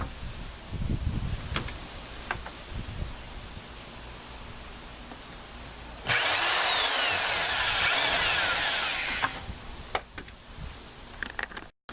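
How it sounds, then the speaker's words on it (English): Power drill boring holes into a knife handle, a bright, steady whine lasting about three seconds in the middle, surrounded by faint workshop knocks and handling sounds. "Now I'm going to drill holes in there"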